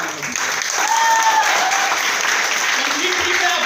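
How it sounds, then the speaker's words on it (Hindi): An audience at a seminar claps in a dense, steady burst of applause that fills the room, loud and continuous with no break. "आज आप ताली यहां बजा रहे होगे"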